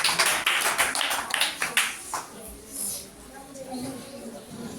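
Primary schoolchildren in a maths class give a round of claps for a classmate: a quick series of sharp, distinct hand claps over about two seconds that fades into quieter room noise and faint talk.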